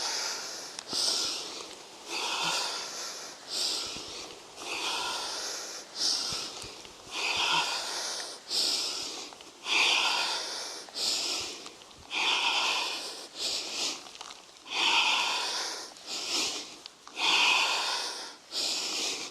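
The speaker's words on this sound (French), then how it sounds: "on va le faire avec une respiration un petit peu plus rythmée. C'est-à-dire, j'inspire, j'expire." Rhythmic yoga breathing, close and loud, with forceful nasal inhales and exhales alternating in a steady pulse, about one breath every second or so, alone with no speech.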